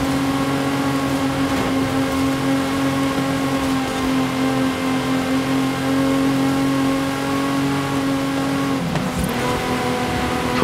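Ferrari P4 race car in Forza Horizon 5 holds a steady, loud high-pitched engine drone at sustained high speed, a continuous tonal whine with a brief shift near the end, no talk.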